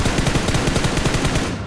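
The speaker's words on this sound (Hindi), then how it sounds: "ये देखो गोली चला रहे" Rapid automatic gunfire from PUBG Mobile (BGMI) gameplay, a dense burst of repeated shots at a steady fast rhythm, loud and continuous for nearly two seconds before tailing off slightly.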